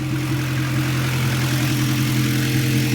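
A 1990 Acura Integra engine idling fast, a steady loud droning hum with a constant low rumble that does not waver.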